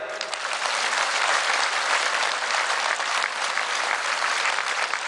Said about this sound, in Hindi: तो एक बार बाहर वालों के लिए अंदर वाले ताली बजाओ।